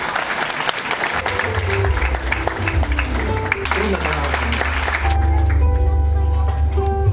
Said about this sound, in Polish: Szanowni Państwo, duże, duże brawa!